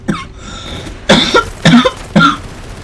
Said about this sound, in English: Random cough.